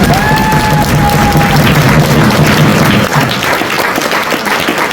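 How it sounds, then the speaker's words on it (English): A high school theater audience applauds after a performance of Alice in Wonderland, loud sustained clapping filling the room, with a brief tonal whistle-like cry early on and little talk. "Round of applause for all of our employees."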